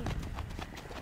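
Horse hooves clip-clop in a quick, brief series of muffled steps on the ground, close by and faint, with no talk over them.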